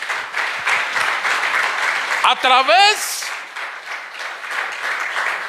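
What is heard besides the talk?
applause in a church service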